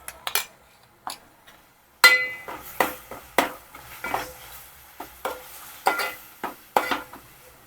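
Onion and green masala being stirred in a pan for Malvani prawn rice, with a spatula scraping and clinking in a steady run of sharp strokes over a soft sizzle after a few isolated taps, with no talking.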